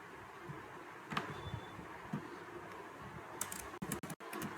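Light typing on a computer keyboard, a handful of soft scattered key taps, then a quicker cluster of sharper clicks near the end, faint under a steady hiss of room noise.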